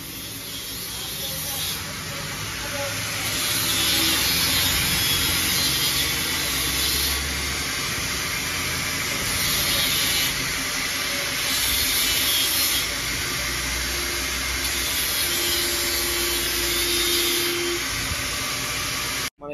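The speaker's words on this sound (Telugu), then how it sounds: "ఏదో కటింగ్ చేస్తుండవు సీరియస్గా." Cutting work on a new motorcycle handle for an NS200: a loud, sustained hissing, grinding roar that swells and eases in long bursts, steady throughout with little pause.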